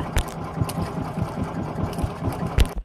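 A fishing boat's engine runs steadily out on the water, a close, mid-pitched rhythmic chugging that holds even throughout before cutting out abruptly at the end.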